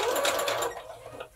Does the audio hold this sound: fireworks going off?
no